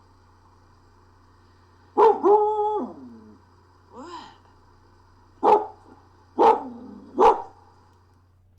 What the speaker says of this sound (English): the family's dog started to freak out at night, running straight to the gate outside and barking like crazy